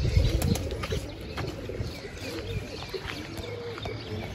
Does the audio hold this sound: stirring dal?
no